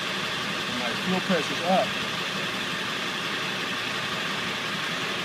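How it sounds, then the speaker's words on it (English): A Ford 7.3 Powerstroke diesel engine idles steadily after start-up, a constant low rumble running through the clip while someone speaks briefly over it. "I'm going to cycle the key again, start it up. The idle's already clearing up."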